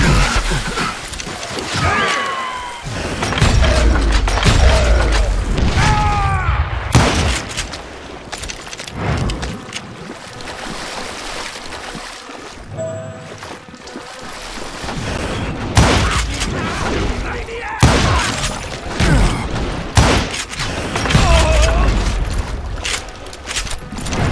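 Gunfire in a Call of Juarez Gunslinger duel: repeated loud booming shots with ricochets and game effects over about twenty seconds, with voices speaking between bursts.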